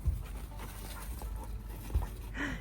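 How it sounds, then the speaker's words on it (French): A small dog pants during a game of fetch with a stick, a soft, steady rhythmic breathing close by with a couple of brief thumps. "On a trouvé un petit chien."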